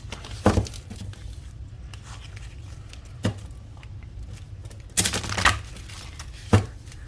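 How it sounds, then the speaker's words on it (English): Tarot cards riffle and snap in a few quick bursts, separated by soft rustling and handling noises, close by with no talking. "Let's get a nice shuffle here and see what we get."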